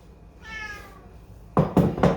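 An outdoor cat gives one clear meow near a kitchen, followed by three loud knocking thumps in quick succession. Nobody talks.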